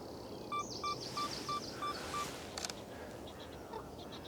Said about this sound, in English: A couple of Canada geese.